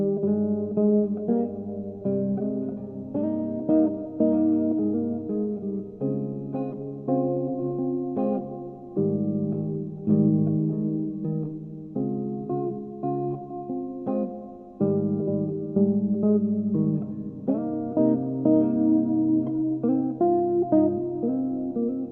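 A clean electric guitar plays a chord progression through chorus, reverb and flanger effects, with sustained, shimmering chords that change every couple of seconds at an even, moderate level.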